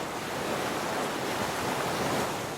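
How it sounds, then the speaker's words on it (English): Ocean waves lapping onto the shore beneath swaying palms make a steady, dense surf hiss at moderate level, continuous and unbroken, with no voices. "listen to the waves lap onto the shore"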